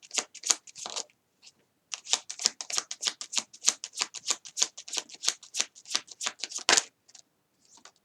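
Tarot cards shuffled by hand in rapid riffling bursts, a dense run of crisp flicking clicks with a brief pause near the start and a sharp snap near the end, close and clear with no talk.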